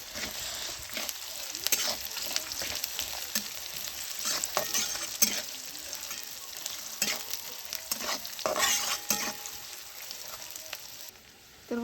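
Chopped onion fries in hot oil in a pan while being stirred, giving a steady soft sizzle broken by repeated scraping strokes of the spoon, close and fairly quiet, with no talk.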